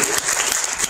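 A short burst of audience clapping during a lecture, a dense, even patter of hands heard in a hall for just under a second, with no voices over it.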